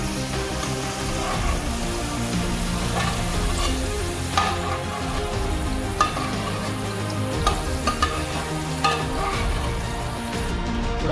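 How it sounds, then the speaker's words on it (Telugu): Sliced onions frying in hot oil, with a dense, steady close-up sizzle throughout and occasional sharp clicks from stirring. "ఇప్పుడు అదే నూనెలో ఉల్లిపాయలు వేసుకోవాలి. మంచిగా బ్రౌన్ కలర్ వచ్చేదాకా ఇవి కూడా వేపుకోవాలి."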